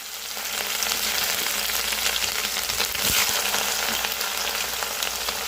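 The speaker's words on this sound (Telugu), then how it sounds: "ముందుగా అయితే దొండకాయలు అయితే ఫ్రై చేసేసుకుందాం" Ivy gourd (tindora) sizzles as it fries in a pan on the stove, a steady close crackle and hiss with a brief stir around the middle, no voices.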